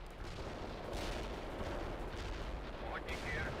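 Artillery fire in the World in Conflict video game, heard as a dense, continuous rumble of distant, booming barrages that fill the whole stretch at a steady loudness, with a faint bit of radio-style talk under it.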